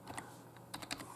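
Typing on a computer keyboard while setting a full-screen hotkey in Media Player Classic: a few quiet, close key clicks, two early and a quick cluster near the end, with no talk.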